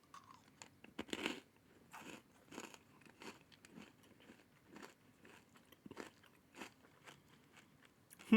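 Robin Eggs Easter candy being bitten and chewed up close: a sharp crunch near the start, then a run of crisp, rhythmic crunches and softer chews for several seconds, with no talking.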